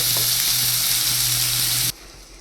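Vegetables sizzling and frying in a hot pan, a steady loud crackle that suddenly drops to near silence near the end.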